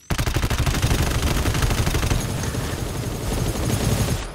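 Sustained automatic gunfire in the co-op shooter game GTFO, a rapid unbroken stream of loud close shots rattling for several seconds with a brief easing midway before picking up again.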